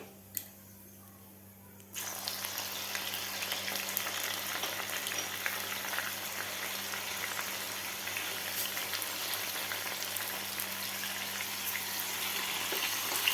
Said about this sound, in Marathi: व्यवस्थित आपल्याला लसूण सुद्धा थोडासा फ्राय करून घ्यायचा आहे.